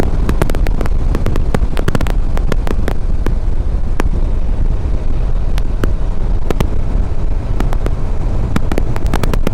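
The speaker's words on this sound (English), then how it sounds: "I hear the wind." Loud, constant wind roar buffets the microphone while riding a 2012 Yamaha V Star 950 Tourer motorcycle, with a low rumble underneath and scattered sharp crackles; no voices.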